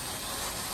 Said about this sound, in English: we're gonna mount the 4 Phillips head screws into the door